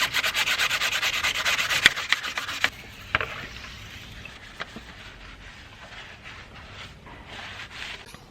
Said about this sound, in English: Now we need to sand